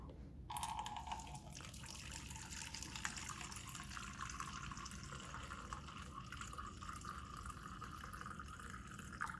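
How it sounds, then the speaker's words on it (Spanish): Polyurethane thinner pours into a measuring cup in a steady, continuous trickle, close and fairly faint, with no pause and no voices. "tomar el diluyente para poliuretano y miden con la taza medidora 200 mililitros"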